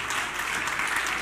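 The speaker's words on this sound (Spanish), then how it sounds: "Un aplauso." Audience applauding the announced winner of a barbecue competition prize, a steady dense clapping that fills the short moment without voices over it.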